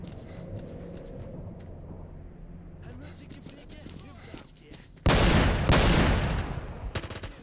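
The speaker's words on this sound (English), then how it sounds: "Nice gunfire sounds." Gunfire in the video game STALKER Narodnaya Solyanka breaks in suddenly after a quiet, rustling ambience, a loud burst of rapid shots followed by a second burst that trails off.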